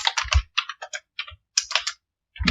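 Computer keyboard being typed on while writing Spring Java code, a run of quick close clicks in short bursts with brief pauses between them, no voices.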